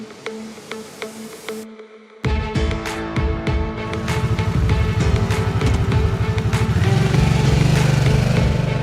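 A 2021 Harley-Davidson Sportster S motorcycle fires up after a brief gap, then its engine revs and builds into a loud, steady, throbbing roar as it accelerates away on a ride.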